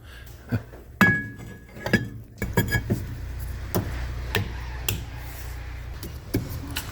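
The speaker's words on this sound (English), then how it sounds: "Time to get the drum on." A Ford Focus rear brake drum being fitted onto the hub, with a series of sharp metallic clinks and knocks at irregular intervals, close and distinct over a quiet background.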